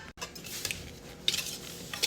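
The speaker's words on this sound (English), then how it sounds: "Now you whisk." Muffin batter with salt and baking powder whisked in a bowl; rapid light metallic clinks and scrapes of the whisk against the bowl, close and without talk.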